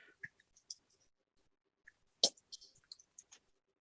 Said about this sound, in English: and I can type something here.